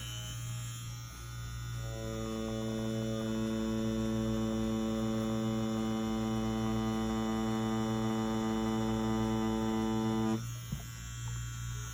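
Ambition Soldier wireless tattoo machine running at 7.5 volts, a steady close electric buzz that starts, holds evenly for several seconds and then stops, over a constant low mains hum.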